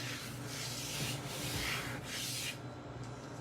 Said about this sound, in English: you can take an old credit card. These are pharmacy cards. They work great for cleaning off surfaces